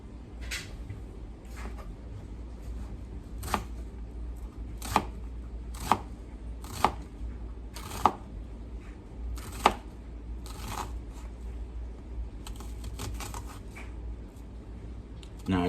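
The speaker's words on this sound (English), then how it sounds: "Now I learned 3 different ways of cutting an onion." A knife chopping an onion on a board makes sharp, evenly spaced taps about a second apart against a steady background hum, fairly quiet and close.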